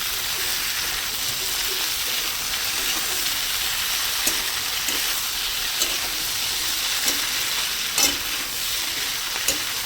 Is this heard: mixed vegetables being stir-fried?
yes